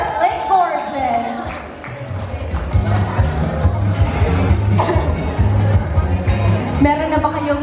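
A crowd of supporters cheers and chants at a live press launch in a rhythmic, continuous rumble under a loud announcer's voice, with clapping and a bouncing beat running beneath.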